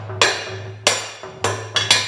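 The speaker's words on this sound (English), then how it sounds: "using the soft blow hammer, you go to either side of the fitting" A soft blow hammer striking the shaft of a large-diameter Teflon fitting, five sharp metallic knocks at uneven intervals over a low steady hum, fairly close and loud.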